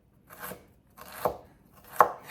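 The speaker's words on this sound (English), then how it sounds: "And then you start chopping it again." A knife chops through ingredients for homemade chicken soup on a cutting board: three separate, crisp strikes about three-quarters of a second apart, each close and fairly loud over a quiet background.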